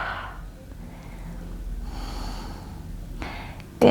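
A slow, audible inhale and exhale during a Pilates full-body stretch, soft airy breath against a quiet room, followed by a brief sharper sound at the end.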